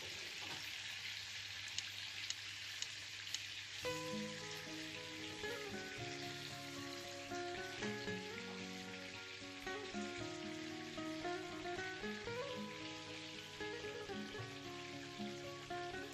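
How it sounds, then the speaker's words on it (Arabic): Beef steak searing and browning in a pan gives a faint, steady sizzle with soft crackles, sitting under gentle background music throughout. "تنبدا نقلب في هذا اللحم باش كيتحمر شويه من كاع الجوانب"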